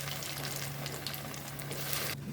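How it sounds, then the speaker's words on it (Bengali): Loitta fish chops frying in hot oil, a loud, dense and continuous sizzle close by that cuts off abruptly at the end. "এখন এগুলি ভাজবো।"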